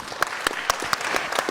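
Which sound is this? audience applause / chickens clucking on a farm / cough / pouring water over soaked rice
audience applause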